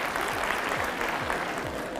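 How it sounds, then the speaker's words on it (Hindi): Studio audience applause at a television talk show on home economics colleges, a steady dense wash of clapping over low background hum, continuous and moderately loud. "तालियाँ।"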